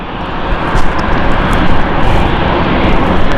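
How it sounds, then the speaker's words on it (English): An ITA Airways Airbus A220 airliner roars at London City Airport, a loud, steady broadband engine rush that swells slightly and holds close throughout, with no talking. "we don't normally get A220s on a Saturday, but we have, and this is a new service from ITA Airways"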